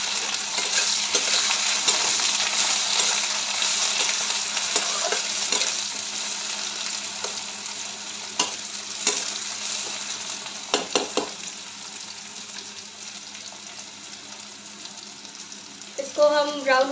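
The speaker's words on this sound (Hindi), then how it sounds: "मिर्ची भुन जाने के बाद हम इसमें प्याज भी ऐड करते हैं।" Onion fries in a pan of oil with browned chillies, giving a steady broad sizzle punctuated by occasional scraping stirs and clinks, with a voice speaking over it.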